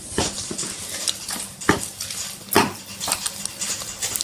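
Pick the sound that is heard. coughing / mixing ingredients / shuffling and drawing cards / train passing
mixing ingredients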